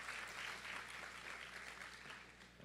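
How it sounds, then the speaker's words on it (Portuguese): A church congregation at a family worship service applauds the mothers present, a faint, distant wash of steady clapping with a low background hum running beneath it. "Vamos aplaudir as mães aqui presentes."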